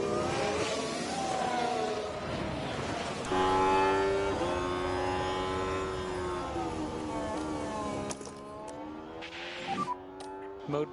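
Formula 1 cars in the F1 Manager 24 racing game at Catalunya, with a steady, loud engine whine that shifts pitch across the clip as cars run close together, and a brief burst of passing noise near the end.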